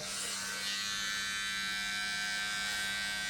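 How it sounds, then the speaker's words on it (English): A cordless mini hair clipper trims and lines a beard along the cheeks, giving a steady, close electric buzz that holds without a break. "Great little mini clipper."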